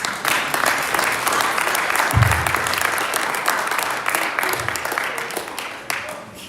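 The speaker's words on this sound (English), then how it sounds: "Everyone give a round of applause for Jack." Audience at a Rotary Club football luncheon applauding, steady dense clapping from a roomful of guests throughout, with a brief low thump partway through.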